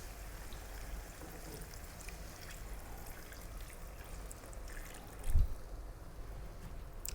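Water poured into a pot of lamb curry, a soft continuous trickle and stream throughout, faint and close, with a brief heavier splash near the end.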